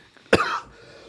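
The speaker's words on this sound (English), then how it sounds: "Sorry, I've been coughing this whole time." A single sharp, close cough bursts out with a short raspy tail, alone against quiet room tone.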